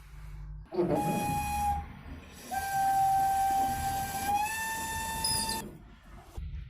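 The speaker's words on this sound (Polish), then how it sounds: "jak maszynista widzi zagrożenie lub znak baczność i parowóz daje gwizd" A steam locomotive's whistle sounds two loud, sustained steady blasts, the second longer and rising slightly in pitch, over a hissing rumble of rail noise.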